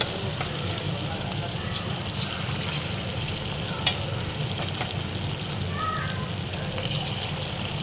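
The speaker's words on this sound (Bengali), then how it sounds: "এবার তেলটা গরম হলে আমি এর মধ্যে চিকেন পকোড়াগুলো ফ্রাই করব।" Chicken pakoras deep-frying in hot oil over a low-to-medium flame, a steady dense sizzle and bubble that runs evenly throughout with one brief sharp tap near the middle.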